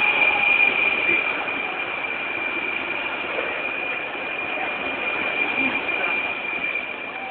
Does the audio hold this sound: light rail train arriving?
yes